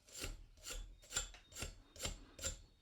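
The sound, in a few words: wire brush scrubbing PTFE tape off pipe threads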